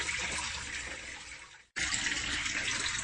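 Water flows steadily back into an aquaponics sump in a close, constant gushing stream, with a brief dropout partway through before the flow resumes.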